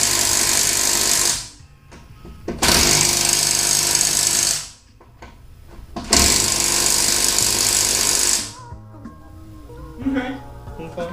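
An impact wrench or power tool bolts parts onto a car in three loud buzzing bursts, each a couple of seconds long, separated by short pauses filled with clanks and quiet handling.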